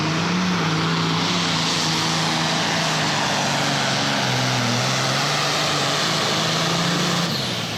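A pulling tractor, the Slama Enterprise machine, roars down the pulling track in Hillsboro, Wisconsin, a loud sustained engine drone with wavering harmonic pitch, close and continuous throughout without talk.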